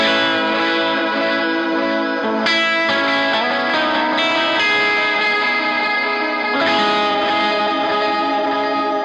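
Electric guitar run through a large effects pedalboard in a typical church tone, heavily washed in chorus, delay and reverb with some drive, sustained chords ringing together in a dense, continuous, loud wall of sound.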